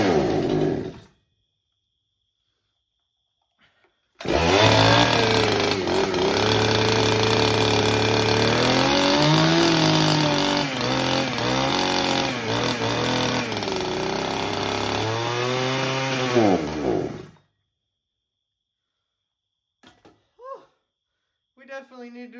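A freshly assembled Farmertec 288xp chainsaw, still needing carburetor adjustment, roars loud and close for about thirteen seconds with throttle swells and dips, then cuts off abruptly, leaving near silence and a few faint sounds.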